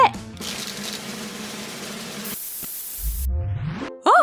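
A steady hissing spray runs for a couple of seconds, cut off abruptly, followed by a rising mechanical whir and a brief clatter.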